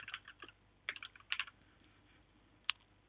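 Light clicking keystrokes on a computer keyboard come in short quiet bursts of a few taps, with pauses between them, close and alone in a very quiet room.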